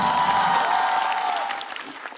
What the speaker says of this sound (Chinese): 掌声再给嘻哈。